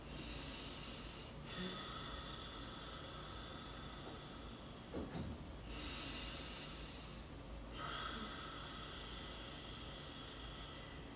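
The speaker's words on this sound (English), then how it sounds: "inhale through your nose, exhale through your mouth, but with your lips closed" Slow ujjayi breaths, inhaled through the nose and exhaled with lips closed, a soft hissing throat sound in long drawn-out waves, close and quiet.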